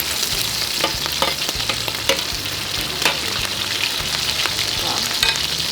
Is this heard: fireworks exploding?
no